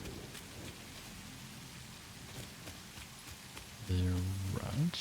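Thunderstorm in the video game Satisfactory, a steady hiss of rain with a soft rumble of thunder, plus a low tone and faint voice near the end.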